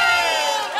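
A crowd cheers and shouts at a sports club's championship celebration, a brief loud swell of voices.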